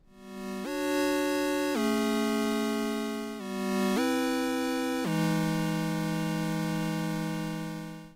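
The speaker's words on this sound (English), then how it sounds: "this right here is just a bunch of different frequencies of square waves" A buzzy synthesized chord of square-wave tones holds steady, stepping through a few pitch changes, loud and sustained with no other sounds.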